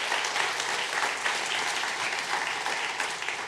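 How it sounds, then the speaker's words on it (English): Audience applause at a university dedication ceremony for a new public policy building, honoring the Board of Regents: dense, steady clapping from a large crowd that fills the whole stretch without any voices. "give all of them a round of applause."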